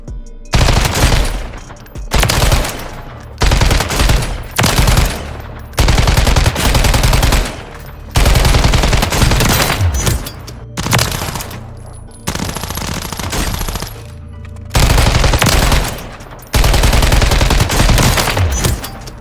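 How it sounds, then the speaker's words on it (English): Loud automatic gunfire aimed at target dummies in the video game Warzone, fired in repeated bursts of about a second or two with short pauses between them and no speech. "I'm shooting at targets"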